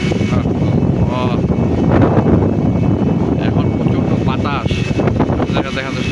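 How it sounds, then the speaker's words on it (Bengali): Strong wind roars and buffets the microphone continuously during a downpour while someone speaks over the blustery noise. "প্রচণ্ড বাতাস বইছে প্রচণ্ড বাতাস একেবারে প্রচণ্ড বাতাস"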